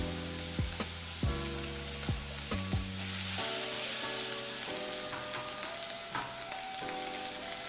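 Steak frying in a hot pan with butter and rosemary, a steady close sizzle with a few sharp clinks and scrapes of utensils as it is turned, no talking.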